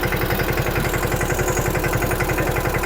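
A tractor engine runs at a steady idle before hauling a heavy load of thirty cement bags. The low, rhythmic chugging is close, loud and continuous, with no talking.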